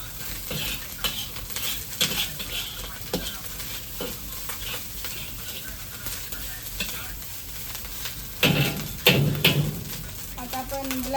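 Ginger garlic paste and chili stirred in a hot pan, with steady sizzling under scraping spoon strokes and a few louder clatters toward the end; faint voice in the background.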